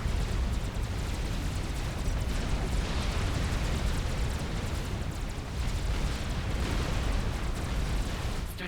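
A strategic missile launch in Forged Alliance gives a sustained roaring rumble, dense and steady for several seconds with faint crackling bursts running through it, and no voices on top.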